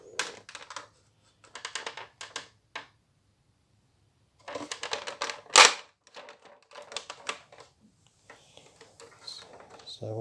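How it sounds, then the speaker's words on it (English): Parts of a 1:18 Junkers Ju-87B Stuka plastic model kit are pressed and clicked together in bursts of sharp, close clicks and rattling snaps with pauses between them, one loud snap in the middle. "Really got to push them together quite hard to get them to click into place."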